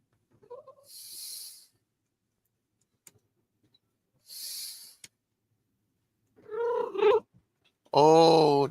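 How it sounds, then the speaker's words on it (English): A cat yowls loudly indoors, with a few drawn-out wailing calls building to a strong final caterwaul after quieter bursts and long silences, close and unaccompanied by speech. "Oh, that was a loud kitty."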